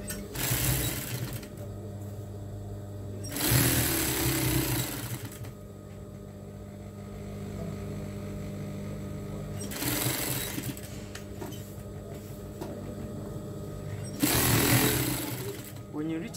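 A sewing machine hems an apron in three long loud runs of steady stitching buzz, each swelling over a few seconds, with quiet pauses and faint room noise between.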